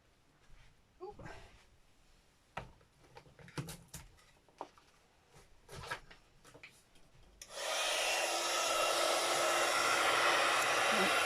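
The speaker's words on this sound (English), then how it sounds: "then you need a heat gun, which I am going to do. It's a bit noisy." Scattered handling noises and light taps give way to a steady, loud blowing roar of a heat gun used for heat embossing, starting abruptly and running continuously to the end.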